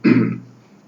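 A single short throat clearing, a rough guttural burst close to the microphone that fades out within half a second, with no speech around it.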